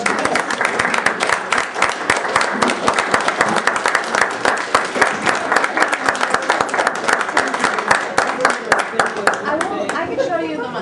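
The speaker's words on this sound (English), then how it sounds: "Could we just do a round of applause?" An audience applauding, with dense, sustained clapping from many hands that carries on for several seconds at an even level before thinning near the end.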